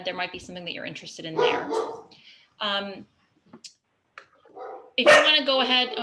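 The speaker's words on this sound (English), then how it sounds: "I'm sorry about my dogs." A person talks during an online meeting while dogs bark in the room in short, sharp bursts, the loudest barks coming near the end.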